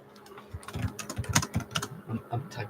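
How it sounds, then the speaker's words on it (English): Quick irregular clicks of typing on a computer keyboard, quiet and close, coming in short uneven bursts with no talking. "I'm typing something here."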